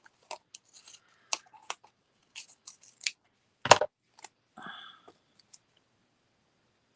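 Scissors snipping through cardstock for cardmaking: a series of sharp, close, separate cuts with short pauses between them, and one louder crunching cut midway, with almost no talk.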